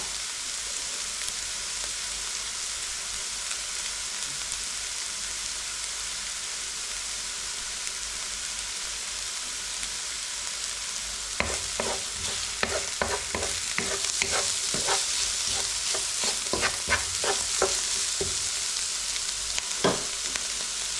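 A fish curry base for Kerala-style panga fish curry fries in a pan with a steady sizzling hiss, then stirring adds a run of sharp scraping clicks over the sizzle in the second half, with no talking.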